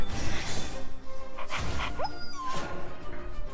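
A puppy in the Shadowverse card game gives short whimpers and yips in quick bursts, loud and close, over a busy layer of game music and effects.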